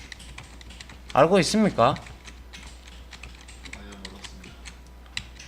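Ctrl and Page Up or Page Down keys are pressed on a computer keyboard during a programming lesson; a brief spoken question comes first, then a few soft, scattered key clicks follow close by.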